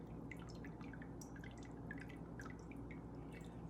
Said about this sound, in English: I'm just going to lift up and drain all the broth into it